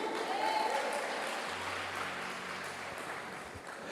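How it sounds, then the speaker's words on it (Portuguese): A church congregation applauds during a seminar session, steady dense clapping throughout with faint voices mixed in. "Aplauda mesmo."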